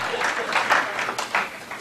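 Audience applause at a Hindi comic poetry recital, a dense patter of many hands clapping with uneven swells, fairly close, with faint voices mixed in.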